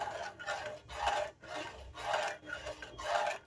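A spoon scrapes rhythmically around a pot of milk semolina pudding, about six slow rasping strokes in a row, close and fairly quiet with no talk.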